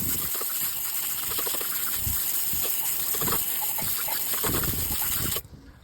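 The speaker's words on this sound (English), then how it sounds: "All right, so let's rinse it off" Water sprays steadily onto a car tire in a continuous close hiss with a few louder gushes, then cuts off abruptly near the end.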